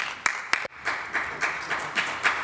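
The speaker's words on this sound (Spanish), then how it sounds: "Los diputados de Vox aplaudiendo a los diputados de Teruel Existe" Parliament deputies in the Cortes de Aragón chamber give a short burst of applause, a few sharp claps followed by a steady, moderately quiet rhythm of hand claps at an even pace.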